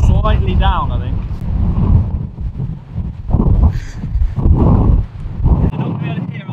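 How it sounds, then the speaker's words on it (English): Strong gusting wind of around 50 mph buffets the microphone on a golf course during a storm, a loud continuous roar with voices talking beneath it. "it is literally 50 mile an hour winds"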